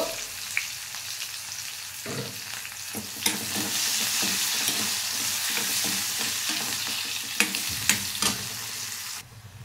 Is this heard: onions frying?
yes